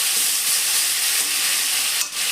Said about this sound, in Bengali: আমি এর মধ্যে পেঁয়াজ বাটাটা দিয়ে দিচ্ছি পেঁয়াজ বাটাটিকে আমি ভালো করে ভাজা ভাজা হওয়া পর্যন্ত